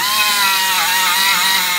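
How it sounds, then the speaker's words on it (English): A quarter inch belt sander grinds rust off metal on a 1969 Road Runner rear panel, a loud, close, high-pitched whine held steady throughout with no voices. "Another favorite, quarter inch belt sander."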